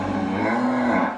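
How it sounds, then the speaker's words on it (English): A cow gives one long, loud, close moo lasting about a second, a low sustained bellow that drops at the end, with no one talking. "You have to be careful because that second cow beside it is like gonna come close."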